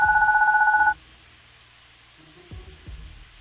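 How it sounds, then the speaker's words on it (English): A baby phone rings in the game Goodbye Deponia, a loud electronic trill that warbles rapidly for about a second and stops, followed by quiet rain-like ambience and a couple of soft low thuds. "my baby phone's ringing"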